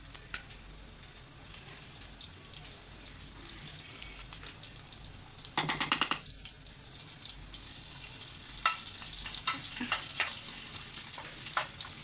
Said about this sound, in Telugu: ఇలా బ్రౌన్ కలర్ వచ్చిన దాకా అయితే వేయించుకోవాలి.